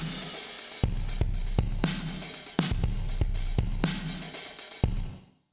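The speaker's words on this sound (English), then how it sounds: "I put a massive reverb on it and then compressed after that" A drum loop drenched in massive reverb and crushed by heavy compression, about 30-to-1, with punchy hits that bloom into a dense, pumping wash before the tail cuts off abruptly.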